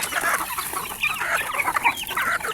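Chickens at a small farm pen cluck and squawk at feeding time, a busy overlapping flock of hens and roosters calling steadily and close by, with no talk.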